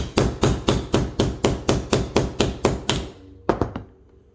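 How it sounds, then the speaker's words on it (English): Metal snaps hammered onto fabric for a DIY garment: about twelve sharp, evenly spaced hammer blows in quick succession, close and loud, then a short pause and two final strikes. "I hammer quite a few times just to make sure I get it really good"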